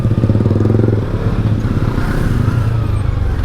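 A Yamaha MT-03 motorcycle rides along a road, its engine a loud, close, steady throbbing drone with a pulsing low rumble and no talking.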